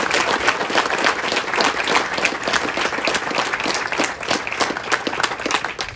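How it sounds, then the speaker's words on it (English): A crowd at a military change of command parade breaks into a sustained round of applause, dense steady clapping from many hands lasting several seconds, loud and close with no clear talking. "Please join me in a round of applause."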